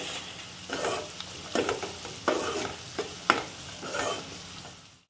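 Chopped onions with turmeric sizzle in a pan for kande pohe, a Maharashtrian breakfast, while a spoon scrapes and stirs in repeated close strokes over the frying hiss.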